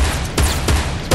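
Gunfire in a Fortnite match, a few sharp shots cracking out in quick succession with brief gaps between bursts, close and loud.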